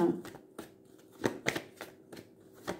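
A deck of cards is shuffled for a card-reading draw, with soft riffles and taps in several brief bursts, close and fairly quiet.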